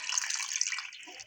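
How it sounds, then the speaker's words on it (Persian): Water is poured into a pot of chicken being cooked for Gilan-style barberry rice with chicken, a brief, bright splashing stream that tapers off at the end. "نشد براتون از گوشه قشنگ آبو بریزم داخل مرغم"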